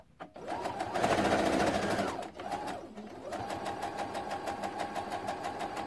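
A sewing machine stitches a Y-shaped seam on a quilt, its motor humming in a steady run, pausing briefly and slowing, then whirring on again with rapid needle chatter; close and fairly loud, with no talking.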